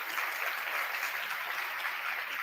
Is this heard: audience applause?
yes